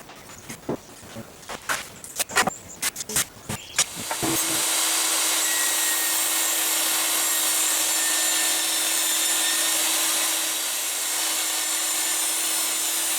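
In a home workshop, a power saw cuts wooden cabinet pieces. Sharp bursts of cutting and handling come first, then the saw settles into a loud, steady whine that holds to the end, with no talk.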